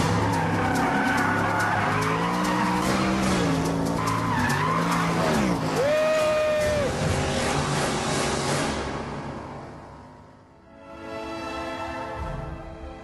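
An Ascari A10 sports car is driven hard, its tires skidding and squealing loudly under a roaring engine, with one sustained squeal tone near the middle before the noise drops briefly and then resumes.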